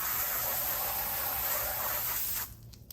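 A steady, loud hissing spray of water wets a golf cart floor mat for over two seconds, then cuts off abruptly, leaving quiet with a few faint knocks.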